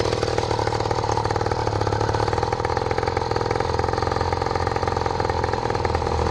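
A motorbike rolls slowly along a main street at roughly 20 to 30 mph, its engine droning steadily and loudly up close with a constant buzzing tone throughout.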